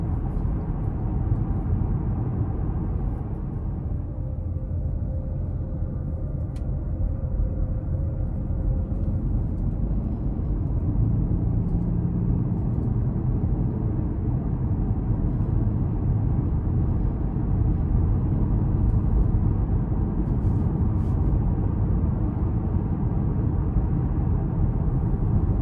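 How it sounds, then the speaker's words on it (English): Steady low road and tire rumble fills the cabin of a 2026 Ford Escape Hybrid Platinum AWD while driving, a constant, even drone with no talking. "driving down the road here, it's pretty, it's relatively comfortable, relatively quiet. You do have the gas engine"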